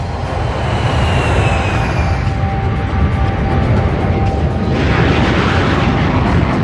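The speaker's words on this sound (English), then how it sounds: "The B-52 had 8 J57 engines hanging in double pods below its huge drooping wings." A B-52 jet bomber powered by eight Pratt & Whitney J57 engines roars loudly and steadily throughout, a dense, continuous jet rumble with a faint high whine drifting across it, no voices present.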